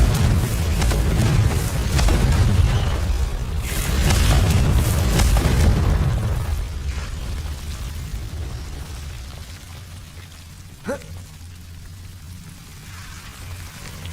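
A Confringo fire spell explosion in the Hogwarts Legacy video game, a loud, rumbling, crackling blast that rolls for several seconds and then fades into a quieter hiss, with one sharp snap near the end.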